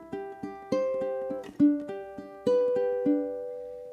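A ukulele playing a slow blues, finger-picked in steady triplets. Plucked notes ring out close and clear in repeating groups of three, with a few sharper accents and no voice.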